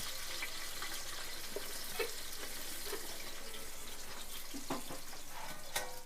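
Sliced onions frying in hot sunflower oil for a beef biryani, giving a steady, even sizzle throughout with a few brief clinks and stirring sounds over it.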